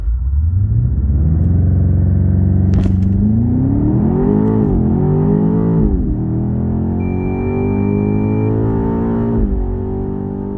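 BMW X5 M Competition G05 LCI with a 4.4 V8 launching hard in an acceleration test, the engine roaring loudly and close as revs climb through several gear changes.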